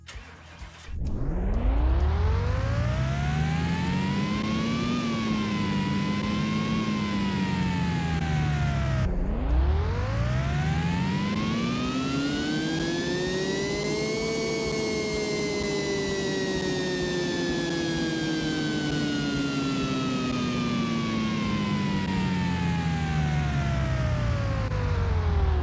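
A Pagani Zonda Revolucion engine in Car Mechanic Simulator 2018 runs on a dyno, starting up, revving to a high whine, dropping briefly, then climbing again in a long sustained pull before easing slightly, loud and alone throughout.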